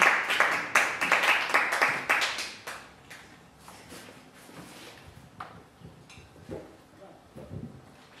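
A church congregation claps to welcome a teacher to the front, with a burst of loud, dense clapping over the first two and a half seconds that then thins into scattered claps, shuffling and faint voices.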